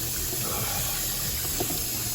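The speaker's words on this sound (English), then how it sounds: "set them in the sink, and just run cold water over them" Cold tap water pours over freshly boiled eggs in a kitchen sink, a close, loud, continuous splashing stream without speech.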